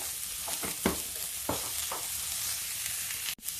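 Pumpkin chunks seasoned with salt and turmeric, with two dried red chillies, stir-fry in a pan over low gas: a soft continuous sizzle broken by several scraping stirs and a sharp clack near the end, with no talking.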